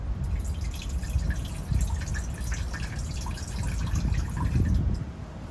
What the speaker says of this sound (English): And now that we're at 25 seconds, I'll go ahead and rinse it.